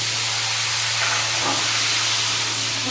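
Potato and okra pieces land in hot oil and erupt into a loud, dense, steady hiss of sizzling that fills the whole moment without pause.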